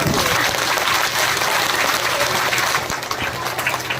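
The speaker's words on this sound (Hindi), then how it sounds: "बजाओ ढोल से ताली" Listeners at a Bhagwat Katha religious discourse clap along with a dhol drum, a loud, dense, continuous mass of hand claps with a low thumping underneath, fading slightly toward the end.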